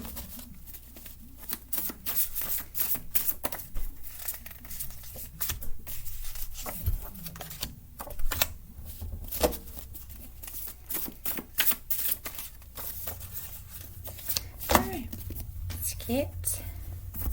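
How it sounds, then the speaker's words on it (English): Cards riffle and snap in uneven bursts at close range for several seconds, with a voice speaking now and then. "I do shuffle all these cards in between just to rest my voice and clear the energies."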